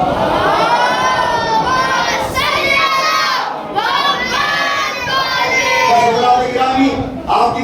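A congregation at a Shia majlis chanting salawat together in unison, loud rhythmic massed voices rising and falling in repeated phrases with short pauses between.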